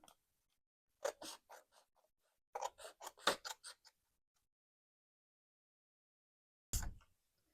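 Scissors trimming cardstock and scrapbook paper in a quiet room: two bursts of quick, crisp snips close by, then a pause and one final cut.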